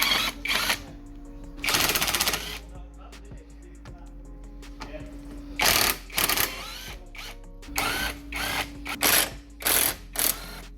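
Bursts of a powered ratcheting tool come in several separate runs, broken by softer clanks of metal as bolts come out of a VW Passat front wishbone in a garage.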